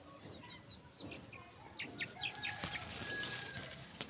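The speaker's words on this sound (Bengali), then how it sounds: "এই যে এখানে কিছু বাচ্চা আছে দেশি মুরগির" Native (desi) chicken chicks peep and cluck in short, high chirps, with a fuller run of calls and light rustling in the second half; the birds are close but fairly quiet.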